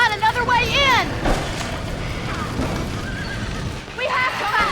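Horses whinny and neigh repeatedly in a burning barn in the video game Red Dead Redemption, loud and close, with shouting voices and hoof clatter mixed through the scene.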